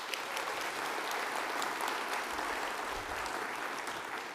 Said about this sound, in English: Edmonton, give yourselves a round of applause.